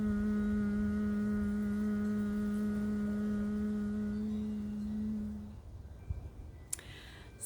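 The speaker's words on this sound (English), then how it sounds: "you can go ahead and add on a little humming sound to the back of your throat." A steady hummed tone at the back of the throat during Brahmari humming breath in yoga practice, sustained and even for about five seconds before fading into quiet room noise with a few faint clicks.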